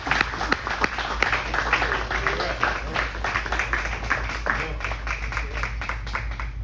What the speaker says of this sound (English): give these ambassadors and fathers an applause